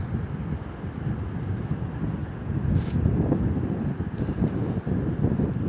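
Wind blowing across an open sea beach at Fraserburgh, a steady broadband rush buffeting the microphone, with distant surf rumbling underneath and no talking.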